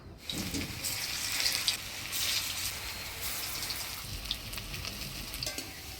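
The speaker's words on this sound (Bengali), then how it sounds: "এবার সর্ষার তেলে ভাজি নিব" Banana flower koftas fry in mustard oil in a village kitchen, a soft, fairly faint sizzle with bubbling and occasional louder surges of spattering.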